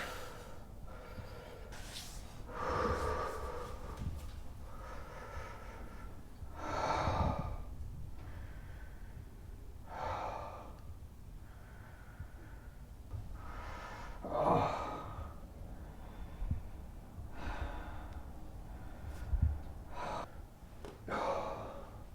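A patient taking big deep breaths during shoulder treatment on a treatment table, slow loud inhales and exhales with sighing snorts repeating every few seconds, close by.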